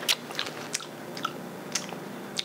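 Someone chews Om Shake strawberry candy close up, with a handful of soft, sharp crunching clicks spaced irregularly over quiet room tone.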